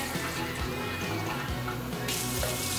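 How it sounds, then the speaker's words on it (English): Water runs from a tap into a container of salmon brine made with brown sugar and salt, a steady close-up gushing and splashing that carries on throughout without pause. "I'm gonna put about 4 cups of water in here"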